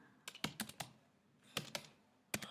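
Keystrokes on a computer keyboard while typing Python code, in two short bursts of several clicks each and a final double tap, close and fairly quiet, with no talking.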